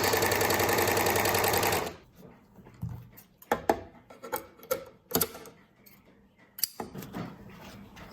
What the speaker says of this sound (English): let's overlock this side